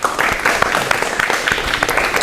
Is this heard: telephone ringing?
no